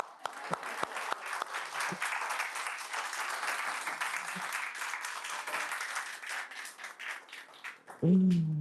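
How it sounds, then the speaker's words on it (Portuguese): An audience at a traffic-safety awareness talk claps, sustained scattered applause with sharp individual claps, fading near the end as a voice comes in. "Agora é hora de bater palma."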